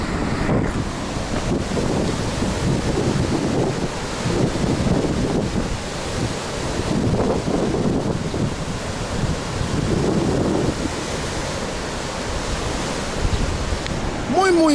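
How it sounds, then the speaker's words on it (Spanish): Ocean waves roll onto a beach in Argentina, a continuous broad surf wash with gusts of wind buffeting the microphone throughout, no speech. "Me encanta the sound, el sonido del agua, de las olas, aire fresco."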